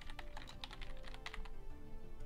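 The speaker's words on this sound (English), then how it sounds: "let me type" Rapid, close keystrokes rattle on a computer keyboard while a name is entered during a Stellaris strategy game session, a brief flurry of clicks over a low background hum.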